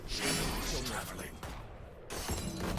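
A trap shattering as it is destroyed in the video game Valorant: a glassy, crunching break with mechanical rattling, then a short dip and more clatter, heard close over game noise and a voice.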